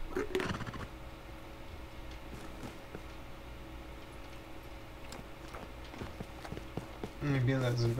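A horse's hooves clip-clop in Minecraft as a steady light ticking pattern under a running game hum, with a person talking over it.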